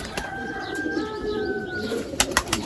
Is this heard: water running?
no